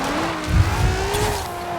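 Car drifting in a video game, a steady engine drone with a long tire squeal sliding slightly up in pitch, continuous and fairly loud with no talk over it.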